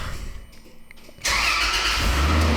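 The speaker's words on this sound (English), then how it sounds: "I want to at least see if it cranks over." A Toyota Land Cruiser 80 engine, just fitted with a new water pump and fan clutch, cranks briefly with a rapid starter whirr, then catches and settles into a loud, steady idle close by.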